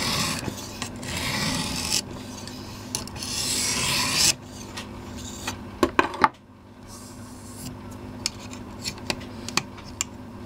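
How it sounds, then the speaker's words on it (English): A file rasping along a machete blade's bevel by hand, reshaping the edge angle: rough continuous scraping strokes at first, then a pause and sparser rubs and clicks, close and alone. "I'm not sharpening it, I'm changing the angle of the bevel. That's why it sounds really rough,"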